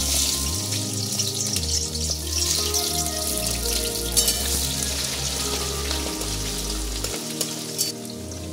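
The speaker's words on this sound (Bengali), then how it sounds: "এবার আমি কিউব করে পেঁয়াজ আর ক্যাপসিকাম কেটে নিয়েছি। এটা একটু হালকা ফ্রাই করে নেব।" Cubed onion and capsicum lightly frying in oil for kadai chicken, a close crackling sizzle with watery hiss, steady and unbroken, with low hum in the background.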